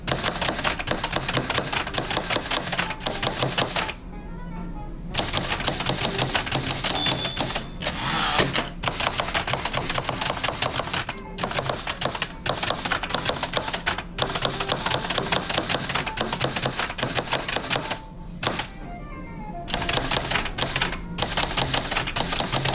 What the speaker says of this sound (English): since I can make mistakes on a typewriter